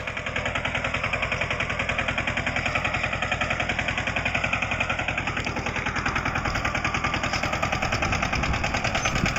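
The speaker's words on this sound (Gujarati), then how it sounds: "આ ભાઈ ટ્રેક્ટર રાખે છે" A tractor working a cotton field runs with a loud, fast, even diesel chug, a steady rapid pulsing that holds close and unbroken throughout.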